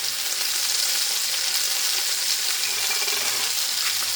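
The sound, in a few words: food frying and sizzling in a pan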